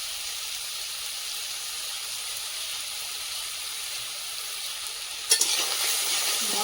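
Chopped onion and green chilli sizzle steadily in hot oil for a taro fish curry, a constant close frying hiss that bursts louder near the end as more goes into the pan.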